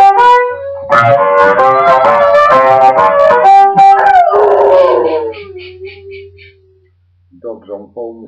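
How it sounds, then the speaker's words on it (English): Dogs howl loudly in a long wavering chorus heard over a phone line, with yips mixed in, fading out before a few short barks and a voice close by. "Dogs on phone this morning."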